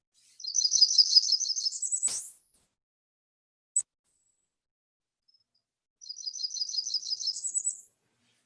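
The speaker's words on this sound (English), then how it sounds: "And so this is a black Burnian warbler." A Blackburnian warbler sings two high, thin buzzy phrases, each a rapid series of notes rising to a very high end, separated by silence with a brief click between.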